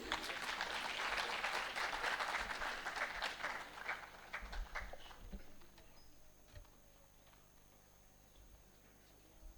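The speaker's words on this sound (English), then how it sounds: "A big round of applause from the students," University students at a lecture give a big round of applause for an honored guest. The dense clapping is strong at first, then thins to scattered claps and fades to near silence.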